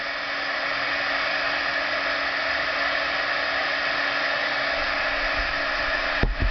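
A handheld heat tool blows steadily at close range to melt embossing powder on a stamped snowflake image, a continuous loud hissing whoosh that runs unbroken, with a faint bump near the end.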